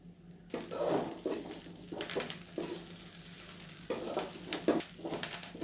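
Curry leaves sautéing in a pan make a soft, faint sizzle with several brief stirring scrapes and bumps spread across the moment, close but quiet, with no voices.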